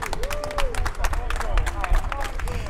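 Members of the public clap for hospital care workers outside a medical centre during the coronavirus period, scattered sharp hand claps mixed with crowd chatter and cheering voices.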